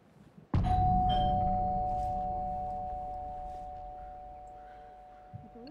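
A doorbell in the video game Alan Wake 2 gives a single sharp chime that rings out and slowly decays over several seconds, heard alone and fairly close.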